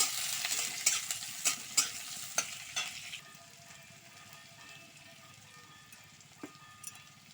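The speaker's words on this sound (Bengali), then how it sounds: "এবার লবণ হলুদটা দিয়ে একটু হালকা করে ভেজে নেব" Onion and garlic frying in hot oil for a small-fish curry, quiet sizzle opening with a few sharp utensil scrapes and taps, then fading to a soft low hiss with an occasional clink.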